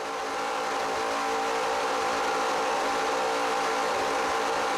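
An offshore racing powerboat with a 42-foot Fountain hull roars past at about 130 mph during an offshore grand prix, its engines making a loud, sustained high-pitched drone at close range, with no voices.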